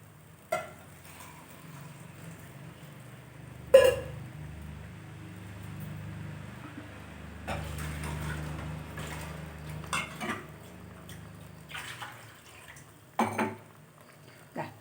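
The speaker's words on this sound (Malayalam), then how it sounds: "കുറച്ചുകൂടെ വെള്ളം ഒഴിച്ചു കൊടുക്കട്ടെ." Water poured into a simmering tuna (choora) fish curry in a pot, with a soft steady liquid wash, a few sharp clinks of utensils against the pan, and quiet stretches between.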